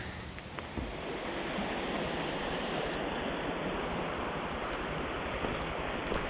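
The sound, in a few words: Rausch Creek stream flowing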